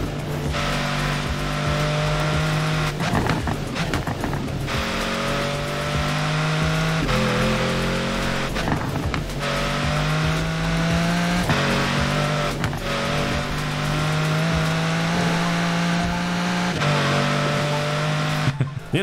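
A Pagani Zonda engine in Forza Horizon 4 drones steadily throughout, its pitch rising and falling through repeated gear changes and revs, loud and continuous with brief tire noise.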